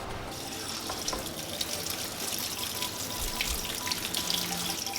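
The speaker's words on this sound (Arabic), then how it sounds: "يلا خلونا نغسل البقدونس" Steady tap water runs into a sink while parsley is washed in a home kitchen, a continuous close splashing hiss with no talk.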